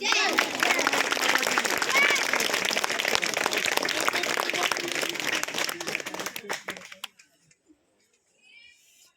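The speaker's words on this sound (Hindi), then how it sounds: "भारत माता की विशेष ताली गुरु।" Audience applause at a Republic Day gathering, a dense crowd clapping loudly and steadily for about seven seconds before tapering off into near silence.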